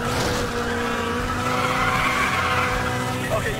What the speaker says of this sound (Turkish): kaydırdım arabayı, drift yaparım